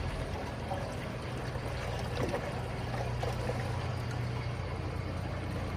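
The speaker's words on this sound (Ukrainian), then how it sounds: "Акуратно заливаємо, не спішимо" Fuel poured from a 10-litre canister into the tank of a bus, a steady gurgling stream that runs continuously at close range over a low background hum, with no speech.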